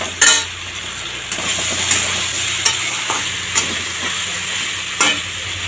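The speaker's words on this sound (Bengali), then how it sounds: "দেখো সবজিটা আমার ভাজা হয়ে গেছে" Vegetables for shukto sizzle steadily in oil in a pan with bay leaves, a loud continuous hiss broken by several sharp scrapes and clinks of a spatula stirring, no voices.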